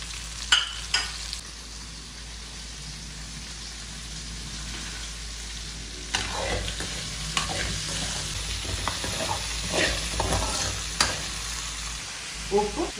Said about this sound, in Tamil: வெங்காயத்தை போட்டுட்டு நம்ம எடுத்து வச்சிருக்க காஞ்ச மிளகாய் சேர்த்துக்கோங்க.